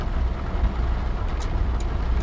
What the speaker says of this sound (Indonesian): ini mobil suaranya suara mesin truk